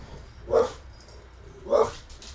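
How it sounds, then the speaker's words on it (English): Two loud single dog barks ring out about a second apart, separated by quiet indoor room tone. "Dogs barking."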